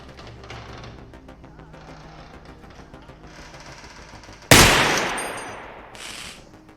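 A gun fires in the video game Receiver 2. There is one loud, sharp blast partway through, and it rings out and decays. A smaller burst follows about a second later over low background hum, and no voice is heard.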